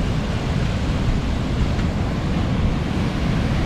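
A loud, steady roar of water rushing through a dam at Pochampad fills the whole clip, broad and unbroken, with no voices.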